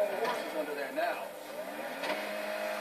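A Vulcar Vagaloa car engine in GTA V revs in a few rising and falling surges over a steady hum, moderately loud and close, with no other sounds.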